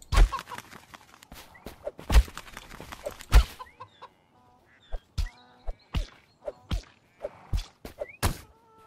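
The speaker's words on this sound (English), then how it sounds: "I killed a chicken with my axe." Chickens cluck in the INCUR Survival video game, giving a string of short, sharp clucks and thumps in an uneven rhythm, fairly close and loud, with no talking.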